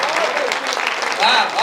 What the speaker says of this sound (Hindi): तालियां कम हैं, जरा मिलकर बजा दीजिए